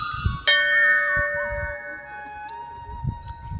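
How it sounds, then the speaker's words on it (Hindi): Hindu temple bells ring out near a sacred lake at Adi Kailash in the Himalayas, a bright metallic strike followed by long shimmering decay, with scattered low background noise and occasional thumps. "मंदिरों में घंटी की काफ़ी सुंदर सी धुन आपको सुनने को मिलेगी"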